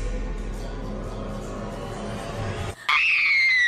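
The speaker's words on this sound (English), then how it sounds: "Now somebody, anybody, everybody scream!" Several people scream together in a cartoon animation meme mix, a loud and noisy chorus that breaks off abruptly. A high, wavering whistle-like squeal follows.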